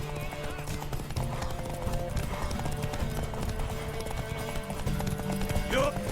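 Horse hooves clip-clopping at a run in The Witcher Wild Hunt, a steady rhythmic patter under game music, with voices speaking over it and a brief whinny near the end.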